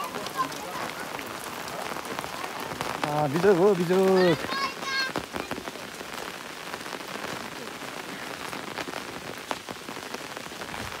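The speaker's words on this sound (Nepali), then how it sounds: "अहिले चाहिँ पानी परेर सब छाता प्लास्टिक कता कता छ झिक्ने बेला भयो सबैको" Heavy rain pours steadily onto surfaces in a village, a dense continuous hiss throughout, with a voice briefly speaking over it partway through.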